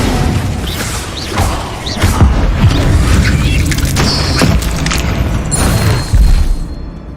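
Booming blasts and crashes from Hogwarts Legacy spellcasting, with the Bombarda explosion spell thudding repeatedly amid whooshes and clattering debris, loud and continuous for several seconds.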